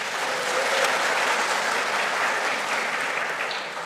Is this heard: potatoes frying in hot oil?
no